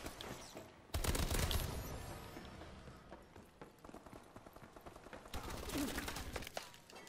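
Rapid SMG bursts in Call of Duty Advanced Warfare multiplayer, loud dense automatic fire that starts abruptly and rattles on, then eases off and flares up again toward the end.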